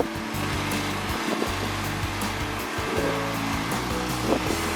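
Gusty wind buffets a microphone along Beach Road, a rough, blustery rush mixed with low rumbling thumps that rise and fall unevenly throughout.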